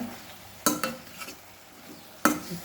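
A spoon stirs fenugreek leaf palya with chilli powder in a pan, giving a few sharp scraping clacks spaced apart over a faint sizzle, close and quiet with no talking.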